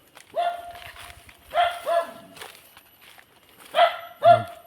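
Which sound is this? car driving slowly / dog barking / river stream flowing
dog barking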